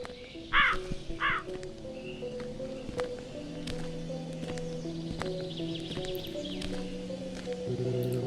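A crow caws twice early on, sharp and fairly close, in a horror video game, over a sustained eerie musical drone with scattered clicks and footstep-like taps.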